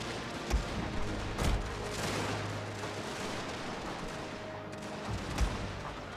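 Musket volleys from Russian line infantry in a Total War battle, a dense, continuous rolling crackle of distant gunfire with a few sharper nearer shots popping out over the steady din.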